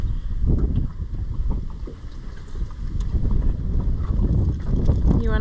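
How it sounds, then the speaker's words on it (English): Steady breeze gusting across a Highfield CL 340 dinghy out on open water, a continuous rumbling wind buffet on the microphone with faint water movement, no talk over it. "We're getting blown all around it. It's breezy."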